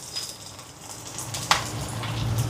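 Urad dal, chana dal, garlic, shallots and dried red chillies frying in oil for a Jaffna fish curry, a close, steady sizzle that swells slightly, with one brief clink of a utensil and no talk.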